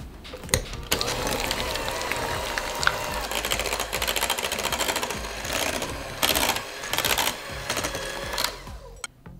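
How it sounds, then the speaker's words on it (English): An electric mixer beats vegan cream cheese until smooth for a baked cheesecake, giving a steady, close motor whir with brief bursts and dips in intensity and no talking. "I'm going to mix my vegan cream cheese until it is smooth"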